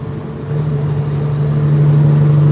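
A truck engine idles with a steady low hum that rises slightly in level partway through, close and continuous with no talk.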